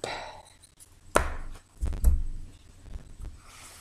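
A deck of tarot cards is cut close by, giving one sharp tap followed by a few soft shuffling knocks and rustles, with no talking.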